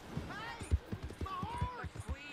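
A horse's hooves clip-clop in the Red Dead Redemption 2 game, making a soft, quiet, irregular run of thuds while a voice speaks over them.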